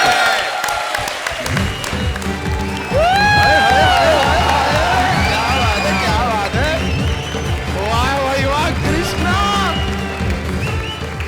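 A comedy stage show's studio audience claps and cheers loudly and continuously, with shouting voices and music woven through the applause.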